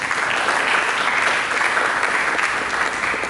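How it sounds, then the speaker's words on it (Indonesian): A church congregation claps for Jesus in a dense, steady, even round of applause that fills the room from start to finish. "Berikan tepuk tangan bagi Yesus."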